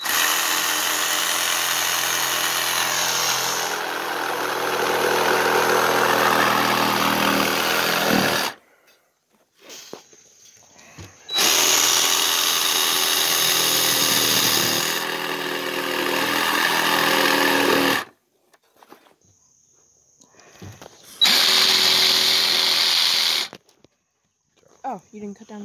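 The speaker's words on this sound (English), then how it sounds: "And you use the jigsaw to cut out the hole." Jigsaw cutting a hole in staircase wood: loud buzzing runs of about eight and seven seconds, then shorter bursts separated by near-silent pauses with faint handling noises.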